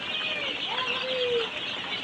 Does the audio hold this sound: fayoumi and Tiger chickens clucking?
yes